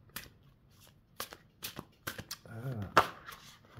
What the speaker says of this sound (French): Je vais tirer quelques cartes quand même